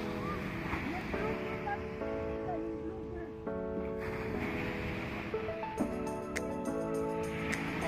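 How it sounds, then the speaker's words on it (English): Waves rolling onto Jumeirah Beach in Dubai make a constant soft wash beneath voices and sustained tonal sounds that come and go throughout. "Welcome to Jumeirah Beach."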